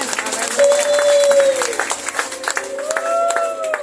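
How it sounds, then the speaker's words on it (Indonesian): A congregation at a worship service applauds warmly, clapping under a sustained musical tone, with some voices mixed in. "Boleh kasih tepuk tangan yang terbaik buat Tuhan kita"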